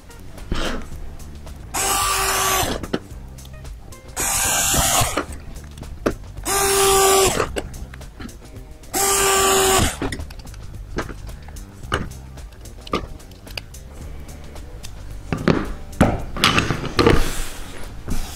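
A power driver whirs in four short bursts, each rising in pitch as a 5/8-inch screw is driven into a motor arm lug assembly, followed by clicks and handling noises.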